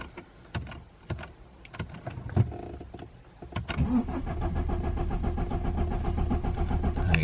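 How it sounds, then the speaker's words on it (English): A BMW N47 diesel engine builds fuel pressure with several clicks and short cranking bursts, then fires up into a steady, loud, close diesel idle that continues to the end. "it's just building fuel pressure, and there we go, fires up"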